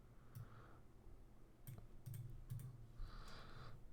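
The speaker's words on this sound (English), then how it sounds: "And when typing this into a calculator," Someone enters numbers on a calculator keypad, making a few soft, scattered key clicks and taps spread over several seconds, quiet and close, with no voices.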